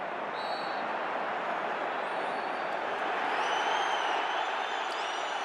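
Football stadium crowd at a Real Madrid–Barcelona Spanish league match roaring in reaction to a referee's decision, a dense, loud, sustained wash of voices with faint whistles.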